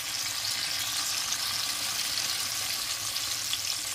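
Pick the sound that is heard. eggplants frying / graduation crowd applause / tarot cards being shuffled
eggplants frying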